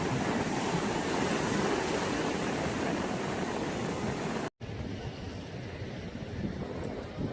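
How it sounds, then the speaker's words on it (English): Strong wind and breaking waves at Matosinhos beach on the seaside make a loud, continuous roar that breaks off briefly, then returns as quieter surf and wind. "It was quite cold at the seaside, especially with the strong wind"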